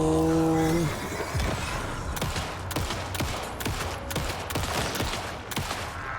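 Gunfire in the video game Alan Wake 2 pops out in rapid repeated shots, loud and sharp, with a brief tonal sound at the start and a dense, clattering rhythm throughout.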